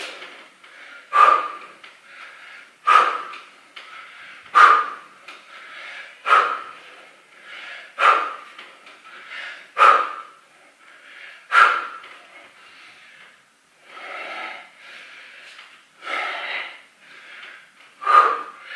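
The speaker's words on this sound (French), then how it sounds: "J'inspire et j'expire." Breathing in and out during chair dip exercises, heard as about ten regular, close breaths with a steady in-and-out rhythm and no talking.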